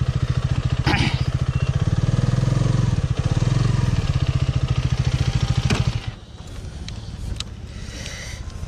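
A Hero Karizma XMR motorcycle engine throbs steadily and loudly up close while the bike rides, then drops to a quieter idle-like rumble near the end.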